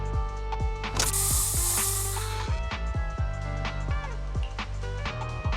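A special Bangboo spray discharged in the Zenless Zone Zero video game: a loud hissing spray burst lasting over a second amid rapid mechanical ratcheting clicks and clanks that continue after the spray stops.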